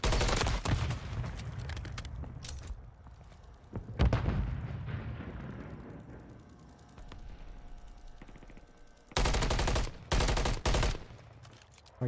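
Gunfire in a shooter video game's search-and-destroy mode: loud bursts of rapid shots at the start, around four seconds and again near ten seconds, separated by quieter stretches.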